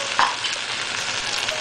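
Chow fun noodles with green onions are stirred in a pan over high heat, giving a continuous loud sizzle with a brief utensil clink near the start.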